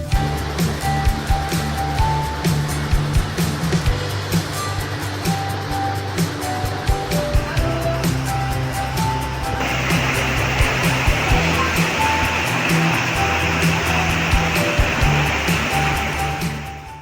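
The Dabhole Pokharbav waterfall rushes steadily and loudly, its continuous roar swelling slightly partway through, with faint background hum and no speech.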